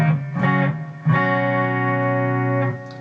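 Epiphone Nighthawk Custom electric guitar played through its neck pickup with both coils active, a couple of short strummed chords followed by one chord left ringing and sustaining, with processed tone.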